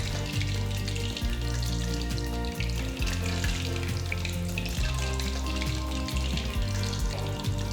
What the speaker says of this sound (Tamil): இந்த மாதிரி மஷ்ரூம் பீசஸ் எல்லாமே ஃப்ரை பண்ணி எடுத்து வச்சுருங்க.